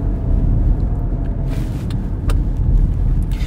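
A BMW X5 SUV, a 2.2-tonne large SUV, drives steadily with a low engine rumble and road noise, rising in intensity as it accelerates, with no talking.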